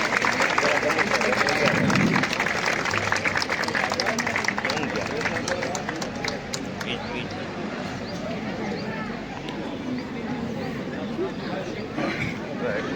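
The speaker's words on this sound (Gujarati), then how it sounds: "તેમનું આપણે જોરદાર તાળીઓથી સ્વાગત કરીએ" An audience at a Junagadh sanitation workers' award ceremony claps steadily to welcome the sanitation superintendent. The applause is dense and sustained, thins a little toward the end, and has crowd murmur mixed in.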